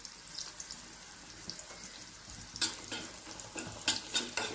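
Onions sautéing in a pan for cooker dum biryani, a soft low sizzle that grows into louder scraping stirs and clatters toward the end, fairly quiet and close, no talking.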